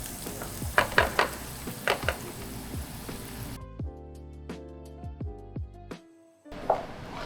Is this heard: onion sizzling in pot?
yes